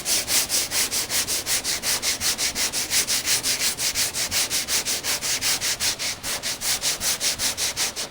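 A sanding block scrubs body filler on a car panel in quick, even back-and-forth strokes, a close, rhythmic rasp that repeats about four times a second with no talking.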